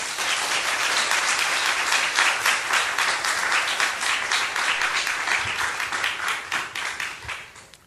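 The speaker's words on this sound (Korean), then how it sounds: "우리 이호년 선교 나오실 때 우리 뜨거운 박수로 환영하겠습니다" A church congregation claps warmly to welcome a missionary to the front, dense steady applause that holds strong and then gradually thins and fades near the end.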